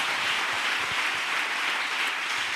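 A church congregation bursts into sustained applause during a sermon, the dense clapping steady and continuous throughout, loud and close with no voices rising above it.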